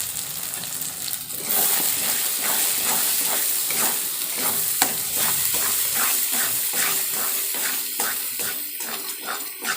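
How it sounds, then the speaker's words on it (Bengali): Spices with salt, turmeric and Kashmiri chili powder frying in hot oil for a chicken curry, a steady loud hiss and sizzle with a quick run of scraping stirs throughout, no speech. "খুব ভালোভাবে মশলাটা কষিয়ে নেব।"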